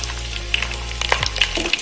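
Twenty peeled garlic cloves drop into hot oil already sizzling with curry leaves for a dried-fish curry, a steady close frying hiss punctuated by sharp pops and a burst of crackling as they land.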